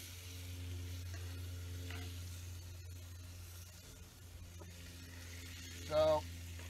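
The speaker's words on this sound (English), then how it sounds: "Finish up my cooking my bacon." Bacon frying over an outdoor campfire gives a steady, soft sizzle over a constant low rumble, with a short burst of voice near the end.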